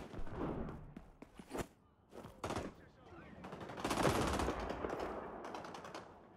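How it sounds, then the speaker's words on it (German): Gunfire in XDefiant, several short bursts and single shots in irregular clusters, fairly close and loud, with a longer rattling burst mid-way and faint movement sounds between volleys. "da wird geschossen"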